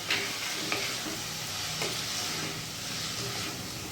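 Potato and eggplant stir-fried in a pan over a medium flame, with Kashmiri chilli powder added, giving a steady close sizzle and hiss with light scraping stirs throughout and no talking.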